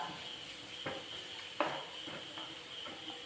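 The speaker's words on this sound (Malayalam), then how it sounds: "ഈ സവോള ഇനിയൊന്ന് വഴറ്റിയെടുക്കാം." Onions sautéing in a pan for a teatime snack, a soft steady sizzle with a few quiet spatula scrapes and one sharper tap, heard close but fairly faint.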